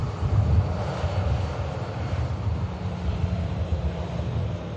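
An ITA aircraft flying for EasyJet to Milan Linate gives a steady, broad engine roar with some wind buffeting on the microphone, continuous and fairly loud with no talk.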